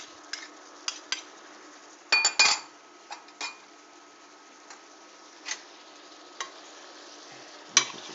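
Garlic noodles tossed and stirred in a pan with butter and olive oil to coat them: soft sizzling hiss under scattered clinks and scrapes of a utensil against the pan, with a few louder clatters, close and without talk.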